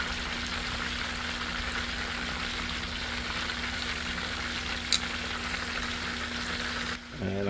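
Smoked chicken wings deep-frying in hot oil make a loud, constant sizzle and bubbling hiss from close by, with one brief sharp click near the end and no speech.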